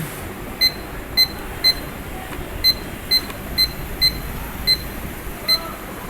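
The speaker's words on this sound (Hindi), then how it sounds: "अलार्म आ तो गया इसमें" A digital hygrometer alarm beeps in short, evenly spaced high-pitched chirps, about nine in a row, over faint background hiss.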